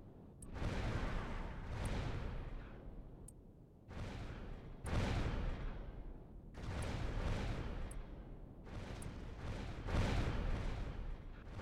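Missiles launching in the space combat game BSGO, a series of separate booming bursts, each followed by a rumbling roar that fades, repeated at irregular intervals and fairly loud.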